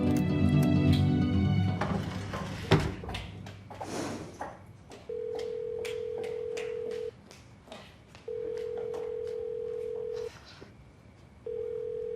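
Telephone ringing indoors, a short burst of ringing followed by repeated electronic ring tones in long even pulses, moderately loud, with brief clattering at the start.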